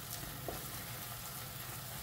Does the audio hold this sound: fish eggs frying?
yes